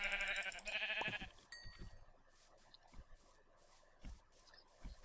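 Sheep in the video game Minecraft bleat in short, faint cries after a loud burst of game tones at the start, with soft thuds and scattered effects in between.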